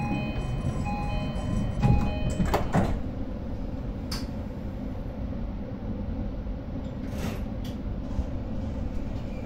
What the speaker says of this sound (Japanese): ドアが閉まります。ご注意ください。